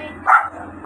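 A pet dog named Summer, kept as a guard dog at a home in Tondo, Manila, gives two short, loud, close barks.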